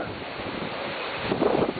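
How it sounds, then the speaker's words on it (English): Severe storm winds near 80 mph in Grand County, Colorado, a loud constant roar buffeting the microphone with a stronger gust near the end. "Oh man, this is like 80-mile-an-hour winds!"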